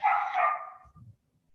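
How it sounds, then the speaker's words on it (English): Small yippy dogs give a short high bark, close and fairly loud, that fades quickly into a faint low scuffle. "I'm sorry about my yippy dogs."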